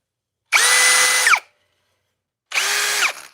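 A new power drill revs up twice at full speed, each whine lasting about a second with a quiet gap between, heard close and loud with no talking.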